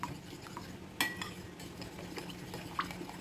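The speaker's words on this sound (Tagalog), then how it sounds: "Then ihalo natin mabuti. Haluin lang natin" Ice cream popsicle mixture being stirred in a bowl, a soft continuous scraping swirl with a couple of light utensil clinks against the container, quiet and close, with no talk.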